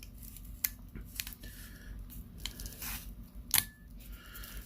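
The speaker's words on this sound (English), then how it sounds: "So let's put the plastic retainer back on." A plastic movement retainer pressed back into an Invicta Reserve Venom 20401 watch during a battery change: quiet close clicks and small scratchy plastic snaps with two sharper ticks, over faint background noise.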